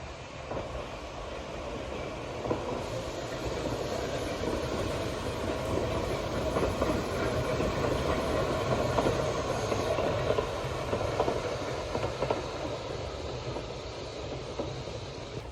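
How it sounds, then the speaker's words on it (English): An old tram rumbles past steadily for the whole stretch, a continuous rolling roar with faint clatter, fairly close and no talking. "there's a tram on its way"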